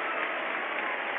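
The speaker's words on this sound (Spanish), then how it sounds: "Aplausos" Football stadium crowd applauding at River's Monumental before Independiente vs River, a steady, even wash of clapping with no breaks across the short stretch.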